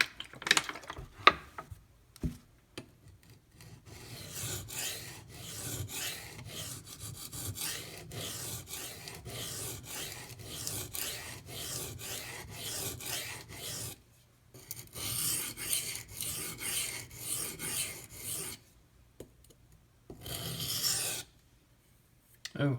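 A Maxamet/D2 steel knife blade is sharpened on a Kyoto 150 whetstone, with repeated rhythmic rasping strokes and short pauses between passes, fairly close and moderately quiet.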